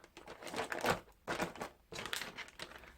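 A plastic bag crinkles and rustles in three bursts, close by, with brief pauses between them and no voices.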